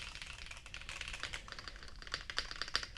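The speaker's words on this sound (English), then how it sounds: "The tactile typing experience feels really good though." Rapid, continuous clacking of keys on a OnePlus Keyboard 81 Pro mechanical keyboard, close and fairly loud, with sharper accented strokes toward the end.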